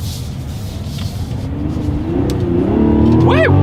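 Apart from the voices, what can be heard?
Mazda CX-90 engine revving in sport mode using paddle shifters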